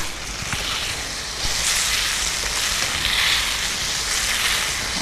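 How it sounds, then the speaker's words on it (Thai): Udon noodles stir-frying in a hot pan give a loud, continuous sizzle with rustling stirring and scraping close up, alone with no voices. "ผัดนะคะ"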